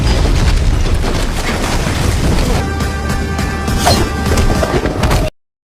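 A bomb thrown in front of a door explodes in a loud, sustained booming roar, rumbling and crackling for several seconds before cutting off abruptly.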